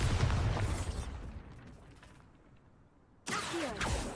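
Bombarda explosion spell cast in the video game Hogwarts Legacy, a loud booming blast that decays into a rumbling tail and quiet, then a second sharp burst of debris and crackle near the end.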